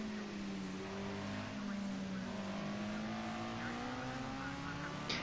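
Radical SR3 race car braking during qualifying at Road America, engine note dropping through steady harmonics against loud, noisy track and wind roar.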